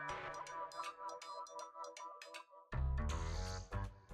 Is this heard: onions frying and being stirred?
no